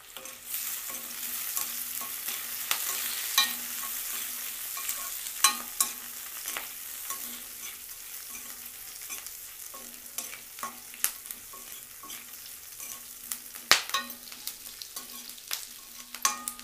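Curry leaves sizzle and crackle in hot oil as a tempering for buttermilk stew is stirred, with steady frying hiss broken by frequent sharp scraping clicks of the spoon against the pan; no one speaks.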